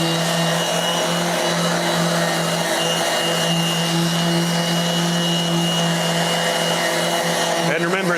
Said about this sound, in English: this is hooked up to a HEPA approved vac dust extractor